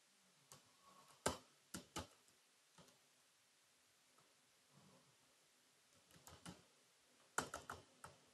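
A few sparse, faint keystrokes tap on a computer keyboard as a YouTube channel name is typed, with scattered single clicks and short clusters over a quiet background.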